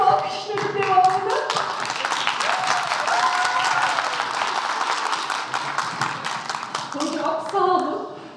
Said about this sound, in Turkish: bekliyorum alkışların devamını